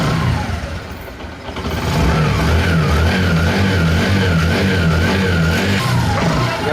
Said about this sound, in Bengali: গাড়িটা কিন্তু স্টার্ট হয়ে গেছে